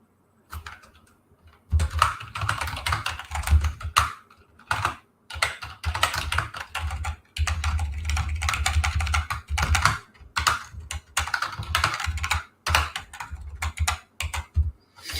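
Fast, loud clacking on a computer keyboard, bursts of rapid keystrokes separated by short pauses, close to the microphone with no talk.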